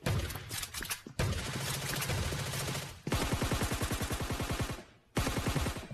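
Rapid shotgun blasts and SCAR rifle fire in a battle royale video game, loud dense bursts of automatic gunfire broken by brief pauses, with no talk.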